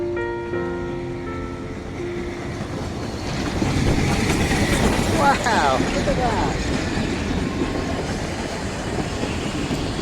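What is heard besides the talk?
narrow gauge train coming to a stop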